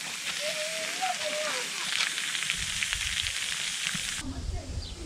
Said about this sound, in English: Let's sear it off from one side now.